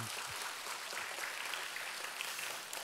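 A church congregation claps together in encouragement during a Friday evangelism school service, a steady, dense wash of applause that holds at an even level from start to finish with no one speaking over it.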